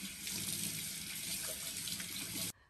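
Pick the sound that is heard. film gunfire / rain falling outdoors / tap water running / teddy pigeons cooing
tap water running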